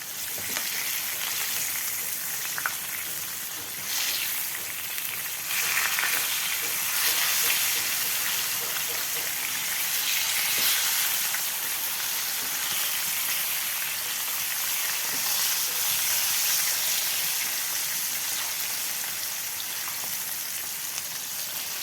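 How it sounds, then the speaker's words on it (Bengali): Steady, dense sizzling of fish frying in hot oil, crackling continuously and fairly close, with a few faint voices far in the background. "মাছটা লাল লাল করে ভেজে নেব।"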